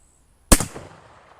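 A single sharp gunshot from a firearm firing a soft lead bullet at a bench rest cracks loudly after a moment of quiet, then decays in a short echoing tail.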